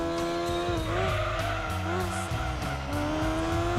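Four-wheel-drive car in Gran Turismo 2 powering out of a hairpin, a steady loud engine drone with harmonic whine rising and dipping as the throttle opens, with tire squeal layered on top throughout.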